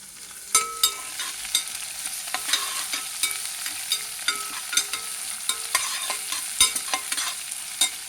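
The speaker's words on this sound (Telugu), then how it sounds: "ఉల్లిపాయలు వేగాలండి" Onions frying in a pan for bondas, a soft steady sizzle broken by frequent sharp spatula scrapes and taps against the pan, close and without speech.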